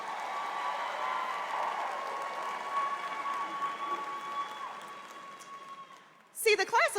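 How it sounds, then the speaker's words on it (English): Applause from a graduating-class ceremony audience for the McGavock High School class of 2022, a steady wash of clapping that holds through most of the clip before a voice cuts in at the end. "Let's give another round of applause for the class of"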